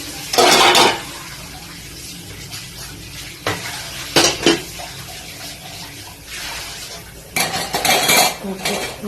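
Dishes, pots and cutlery clatter in a home kitchen as they are washed, with loud close bursts of clinking and scraping separated by quieter stretches and running water.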